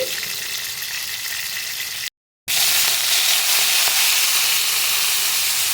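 Tomato pieces frying in oil, a loud continuous hissing sizzle broken by a brief cut to silence, then resuming slightly brighter and steadier.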